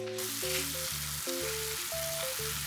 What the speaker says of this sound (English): let's stir fry these apples real quick